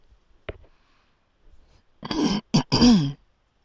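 A sharp click, then a loud, rough throat clearing in a few quick bursts, close up with no talking.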